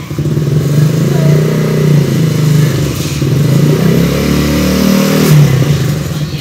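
A motorcycle engine runs loud and close with a continuous rumbling drone and slight rises in revs, and no voices are heard over it.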